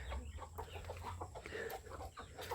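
A hen clucks while laying eggs, a run of short, fairly close clucks over a low steady hum, with a soft background murmur of other fowl.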